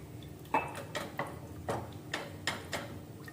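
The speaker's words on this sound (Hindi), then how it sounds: "अब मैं इसमें 1 गिलास जो है दूध डाल रही हूँ और इसको अच्छे से चला लेना है।" A utensil stirs milk into white sauce in a pan, giving a steady series of light clinks and scrapes, about one every half second, close and moderately quiet.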